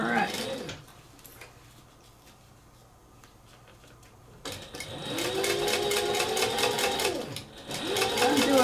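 A sewing machine back tacks while stitching a cork envelope wallet, its fast needle chatter starting after a quiet pause and running steadily near and loud with a brief dip, a voice talking briefly at the start.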